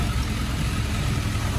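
A customized Kawasaki GPZ 1100 café racer's four-cylinder engine idles with a steady, low, even rumble through its exhaust, heard up close and continuous with no talking.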